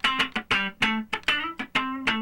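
A short burst of two-bar funk guitar rhythm, with staccato chord stabs across the top strings in a brisk, syncopated pulse, close-miked with nobody talking.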